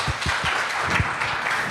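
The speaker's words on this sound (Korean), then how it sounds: "박수 부탁드립니다" A seminar audience at a panel talk on ISV co-sell gives steady applause, with dense overlapping claps filling the short stretch at moderate loudness.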